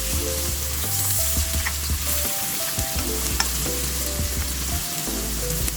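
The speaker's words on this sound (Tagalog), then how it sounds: "pwede na natin yung ilagay yung ating pork liempo. Yan. Mix lang natin dito sa ating mga ingredients." Pork belly frying in a pan with tofu and other ingredients, loud constant sizzling broken by scraping stirs, with a low steady hum underneath and no voices.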